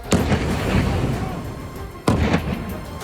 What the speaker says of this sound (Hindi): दूसरा बम गिरा और धमाका हुआ और फिर एक और बम गिरा।